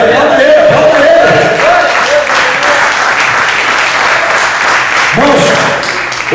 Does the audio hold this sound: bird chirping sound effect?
no